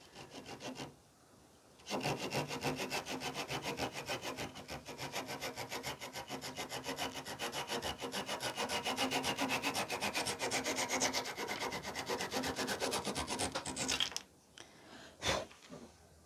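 Hand saw cutting wooden plugs flush with a wooden surface during a barn door build: fast, steady back-and-forth strokes rasp up close for about twelve seconds without pause, then stop, followed by a brief knock.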